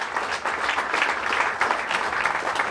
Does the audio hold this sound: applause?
yes